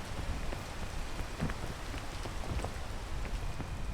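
Steady rain falls in the video game PEAK, a dense, even patter with scattered louder drops, continuous throughout with no talk.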